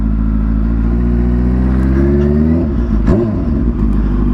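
A Kawasaki Ninja H2R, the world-record-holding superbike, revs hard up close, its engine note climbing steadily in pitch before a sharp blip and throttle swings near the end, loud and continuous with no talking.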